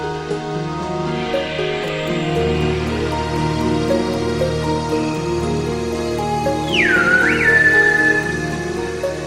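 Silbo Gomero, the whistled language of La Gomera in the Canary Islands, heard as a sharp gliding whistle that sweeps down and back up near the end, over a steady background bed of music.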